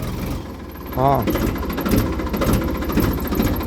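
A Ford tractor engine left idling: a steady, close, low rumbling throb running throughout, with a voice briefly talking over it.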